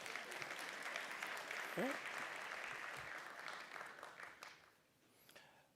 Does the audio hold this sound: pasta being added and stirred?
no